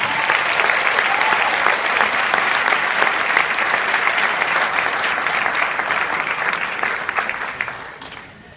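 An audience applauds school harmony band musicians and their conductors at a December concert, sustained loud clapping that gradually thins and fades near the end.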